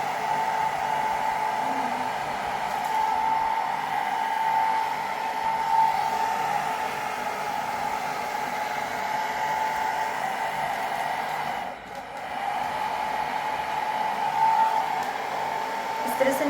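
A handheld blow dryer runs steadily, drying hair at home while being brushed at the roots, a constant airy whir with a brief dip midway.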